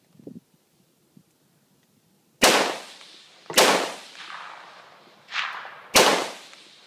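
Four loud, close gunshots ring out during a fox hunt, spaced about a second or two apart, each a sharp crack followed by a rolling echo across open country.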